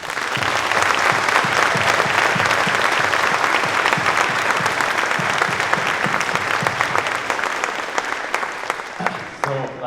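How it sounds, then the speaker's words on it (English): An audience at a surprise farewell concert for a retired music teacher gives loud, continuous applause that stays dense and even before tapering off at the end, with voices audible beneath the clapping. "So can we give a round of applause to him, please?"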